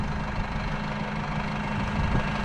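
A tractor engine running with a plough attached, a steady low rumbling drone with a faint knocking pulse, continuous and close.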